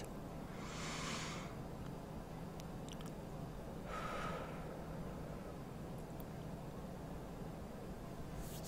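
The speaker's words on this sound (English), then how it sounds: "take some deep breaths in and out" Two deep breaths drawn in and let out, each a soft airy rush about a second long, close up over a steady low room hum, with a few small clicks between.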